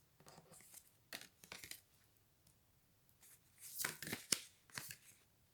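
A card is drawn from a tarot-style deck, giving a few soft papery slides and flicks with a brighter snap near the end, close and quiet with no talking.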